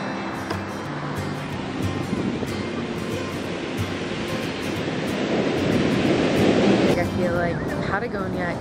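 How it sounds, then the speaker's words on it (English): Atlantic Ocean surf on the Iceland coast rolls in as a continuous broad wash with wind, swelling louder toward the end, and a brief voice briefly rises above it. "now we are here where the Atlantic Ocean is our view"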